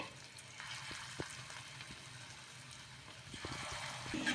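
Onion rava snacks frying in hot oil in a home kitchen, a steady, fairly quiet sizzle and bubbling that runs the whole time, swelling slightly toward the end.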